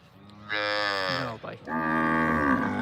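Kankrej cattle mooing close by: two long, deep, resonant moos, the second following a brief break and holding on steadily.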